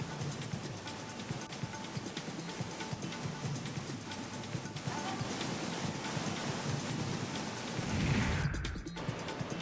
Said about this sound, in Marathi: काल झालेल्या दमदार पावसाचा आणखीन एक व्हिडिओ समोर आलाय